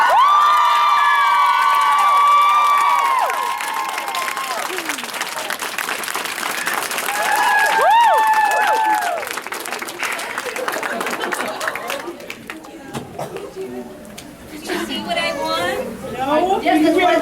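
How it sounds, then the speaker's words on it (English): Audience at a convention panel clapping and cheering loudly with whoops and shouts, with lots of crowd chatter around it, before the applause thins into scattered claps and talk. "that's why they're all clapping for you"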